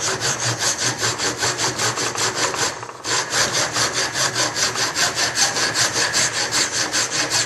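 A coarse file rasps steadily back and forth across a piece of wood held in a vise, a quick even rhythm of strokes with one brief pause midway, close and clear with no talking.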